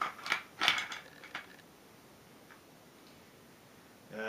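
A shotgun bolt drops into a Benelli Supernova 24" receiver during reassembly, a few close, crisp metallic clicks in quick succession, then quiet, with a faint click at the end.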